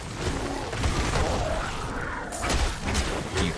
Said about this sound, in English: You trigger the explosion with your right click.